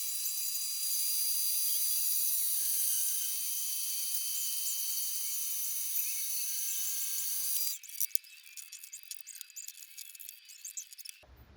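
A drill whines steadily at a high pitch as it bores a hole through the chassis of a Nissan D21 minitruck. The whine stops after about eight seconds, and scattered light clatter and handling noises follow.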